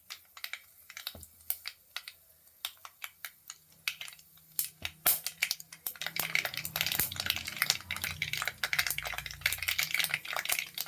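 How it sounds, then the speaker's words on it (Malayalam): Mustard seeds popping in hot coconut oil in a pan on the stove, starting as sparse, sharp, scattered pops and building into dense, continuous crackling close by. "കടുകിട്ട് പൊട്ടി."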